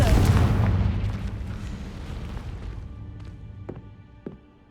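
Confringo fire spell cast in the game Hogwarts Legacy: one loud booming blast at the start that rolls and decays over several seconds, followed by a few faint, sharp pops.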